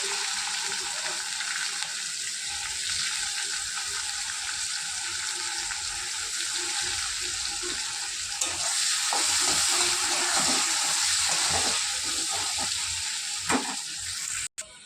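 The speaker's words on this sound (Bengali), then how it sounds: "দেখুন আমার উচ্ছে ভাজাটা হয়ে গেছে" Sliced bitter gourd fries in a pan of oil left darkened from frying fish, giving a steady, close sizzle. Occasional scraping and stirring knocks of a spatula come through, and no one speaks.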